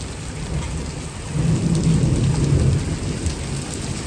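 Heavy rain pours without pause during a spring severe thunderstorm while a deep roll of thunder swells and fades midway, close and loud, with no voices.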